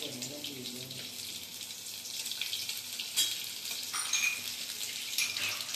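Crushed ginger paste fries quietly in a pan, a soft continuous sizzle with light stirring scrapes and a faint voice at the start.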